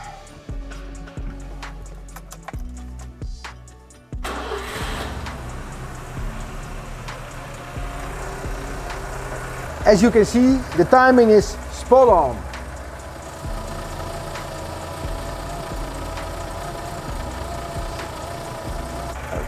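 A car engine starts after a 123ignition distributor install, jumping to a steady low idle that runs on for the rest of the clip, with someone talking briefly over it partway through.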